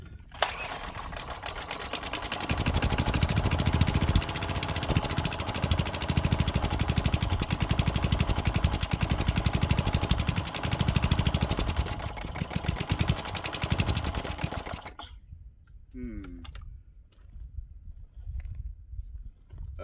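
A Craftsman wheeled weed wacker's small engine runs rough after a no-start, buzzing and sputtering loudly up close for about fifteen seconds before dying out into quiet background noise.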